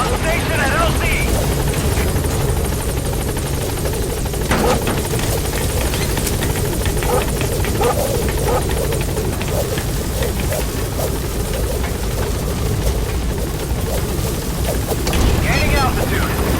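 The Pequod helicopter in Metal Gear Solid 5 arrives at a landing zone, its rotor thrum loud and constant throughout while radio-style voices speak over it.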